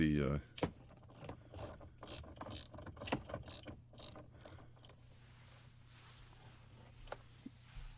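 Clicking ratchet turning out 10 mm bolts hidden behind the controls of a 2007–2014 Chrysler 200, Sebring or Avenger center console, a dense run of close, sharp pawl clicks that slows and fades to sparse ticks.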